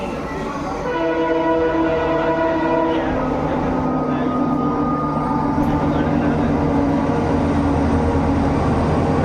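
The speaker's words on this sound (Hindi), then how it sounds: "देखो एटा डीजेल लोकोमोटिव।" Diesel locomotive at Durgapur railway station, a loud sustained engine drone with a horn-like tonal blast in the first seconds, then continuous rumble of the passing train close by.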